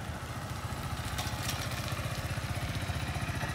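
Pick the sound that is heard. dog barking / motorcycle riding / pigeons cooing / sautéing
motorcycle riding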